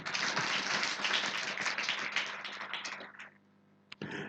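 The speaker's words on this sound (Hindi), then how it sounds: "हम बजा लो ताली अपने लिए" A church congregation claps for themselves during a Hindi sermon, a dense, loud burst of many hands that thins out and stops, followed by a brief pause and a short new sound at the end.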